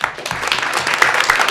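An audience at a mock trial in a courtroom breaks into a short burst of dense clapping and applause, close and loud, with a little talk mixed in.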